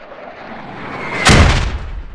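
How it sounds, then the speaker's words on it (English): A mortar shell from a Squad game mod lands and explodes with a sudden loud, broadband boom that rumbles and fades over about a second, preceded by a low background hum. "That's the new mortar."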